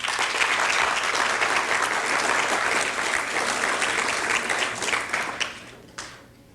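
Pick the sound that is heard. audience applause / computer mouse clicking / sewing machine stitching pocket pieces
audience applause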